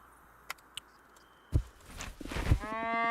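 A single drawn-out cow moo rises near the end in the farming game Moonlight Peaks, preceded by a few soft clicks and a light thump.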